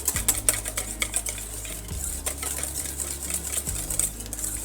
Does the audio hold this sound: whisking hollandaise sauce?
yes